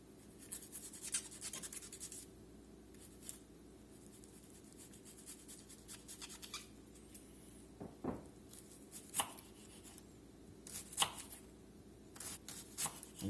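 Knife chopping and dicing shallots on a cutting board, a series of quick, irregular taps and scrapes at close range over a quiet room hum, with brief pauses between bursts.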